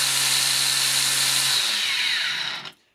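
A DeWalt cordless angle grinder spins at full speed for an RPM test, a loud, close, high-pitched whine that holds steady, then winds down quickly and falls silent near the end.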